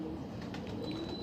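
Pigeons coo softly at a bird market in Multan, a short, low, murmuring call heard for about a second amid faint background noise.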